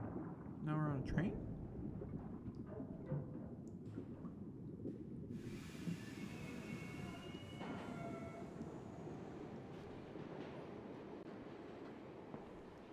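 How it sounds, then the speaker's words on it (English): A train ride in A Memoir Blue, with a continuous low rumble of wheels and carriage that fills the whole stretch, a rising tonal whine and some faint chiming tones layered over the steady roar. "Now we're on a train?"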